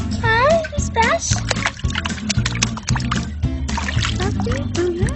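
Children play in sea water, slapping and splashing close by in quick bursts while excited young voices shout and chatter over the watery splatter.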